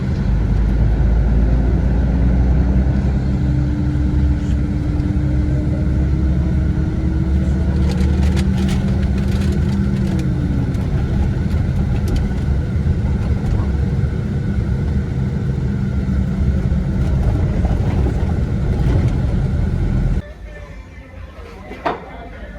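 Cars driving through city traffic in Niš, Serbia, a steady loud rumble of engines and tires with a passing vehicle sweeping by, continuous for most of the clip before dropping suddenly near the end.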